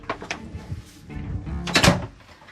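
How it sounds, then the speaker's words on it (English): A damaged door on a hurricane-battered catamaran is pushed shut, giving a few knocks and scrapes before a louder thudding close, heard nearby with no talk. "let's see if this door will even close"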